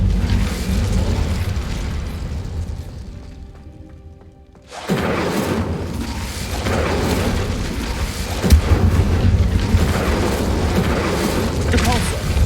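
A fire spell cast in Hogwarts Legacy, a wizarding video game, sets off a sudden loud booming blast after a quieter stretch, followed by a sustained roaring rumble. A voice speaks over the noise.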